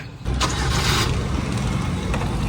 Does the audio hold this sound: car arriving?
yes